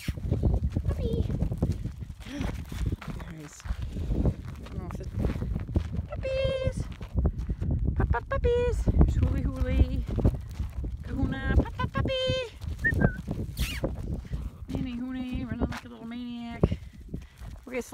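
A horse trots on a Hawaii outing, hooves clip-clopping in a steady rhythm across the whole stretch while people talk and call out over it, with a few brief pauses in the footfalls.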